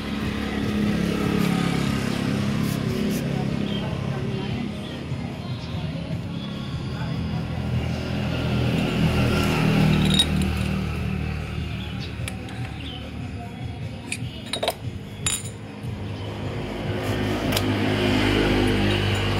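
A Yamaha F1ZR motorcycle engine runs with a bad spark plug, idling steadily for nearly twenty seconds with a rough, uneven beat and occasional sharp pops and sputters, close and fairly loud.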